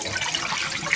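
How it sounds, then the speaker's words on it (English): Tap water splashes continuously into a sink while something is rinsed, a steady close, even wash of running water with no voices. "The water coming off is clear"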